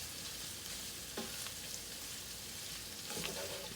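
Beef and broccoli stir-fry crackles steadily in a hot pan, a dense, even sizzle with a few louder spatters, heard close and alone without voices.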